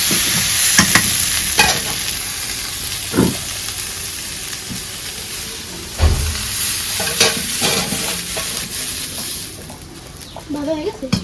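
Pieces of rohu fish fry lightly in a hot pan with a steady sizzle, broken by sharp scraping clatters as a spatula stirs them, while voices talk faintly in the background.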